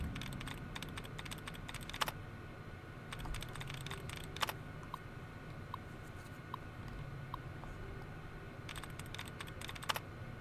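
Rapid keystrokes on a computer terminal keyboard in Fallout New Vegas, clattering in quick bursts with pauses between, over a steady low background hum.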